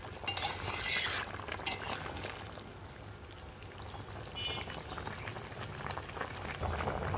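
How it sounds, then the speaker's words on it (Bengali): Four whole onions simmer in a boiling pot, giving a faint, steady low bubbling, with a few light clinks of utensils near the start. "5 মিনিটের মতো আমি ফুটিয়ে নেব।"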